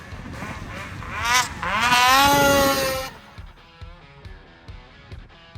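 A two-stroke snowmobile engine revs up loudly with a rising, buzzing whine, holds high, then drops off to a rough, sputtering idle.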